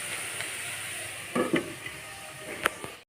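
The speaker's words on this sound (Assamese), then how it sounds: "এইফালে ভাজি মই বনাই আছোঁ।" Vegetables fry and sizzle in a pan in a home kitchen, a steady crackling hiss broken by a few clanks and scrapes of a utensil stirring against the metal.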